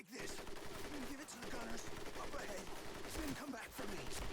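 Artillery and gunfire in the World War II shooter Medal of Honor Pacific Assault, Guadalcanal battle: continuous dense rattle of shots and booming blasts throughout, with faint voices underneath.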